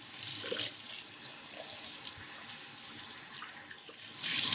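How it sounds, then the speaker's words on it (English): Tap water runs steadily into a sink or basin as conditioner is rinsed out of hair, a close, continuous hiss of splashing water with slight shifts in flow and no talking. "I'm going to rinse this out"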